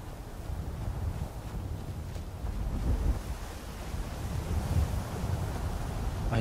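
Steady wind blowing in the video game Skyrim, a broad rushing gust with low rumble that rises and falls slightly, continuous and alone without any voices.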